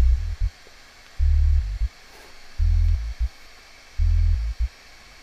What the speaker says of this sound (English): So I had this sub bass going underneath just to give the bass guitar like a bit more weight